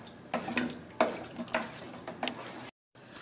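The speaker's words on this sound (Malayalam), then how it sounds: "ഇതിലേക്ക് കരിവേപ്പില ഇടുന്നു 1/2 ടീസ്പൂൺ കുരുമുളക് പൊടിയും കൂടി ഇട്ട് ഒന്നുകൂടെ ഇളക്കുവാണ്" Curry leaves and black pepper powder are stirred in a pan, with several distinct scraping and clinking strokes of a spoon against metal over a faint sizzle, followed by a short pause.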